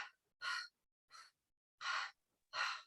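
Open-mouthed panting in the manner of a dog during a breathing exercise: five sharp, breathy huffs in an uneven rhythm, close and fairly loud, with silence between them.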